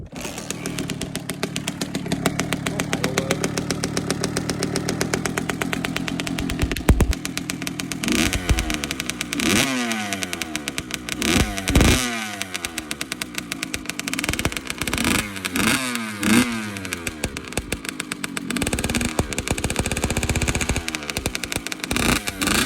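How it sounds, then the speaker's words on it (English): A two-stroke motorcycle engine with a freshly repacked silencer runs close by, crackling and buzzing steadily, with repeated sharp revs rising and falling through the middle and latter part. "I'm gonna start the bike. I'll show you what it sounds like."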